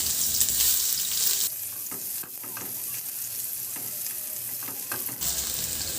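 Garlic sautéing in hot oil in a kawali for a chicken dish, a close, steady sizzle with the crackle dipping briefly midway, while a spatula scrapes and stirs throughout.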